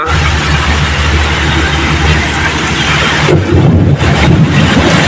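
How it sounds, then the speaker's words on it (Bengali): Heavy rain and strong gusting wind make a loud, constant roaring rush that fills the whole stretch and briefly shifts in tone partway through. "সঙ্গে বৃষ্টিটাও ভালোই পড়ছে"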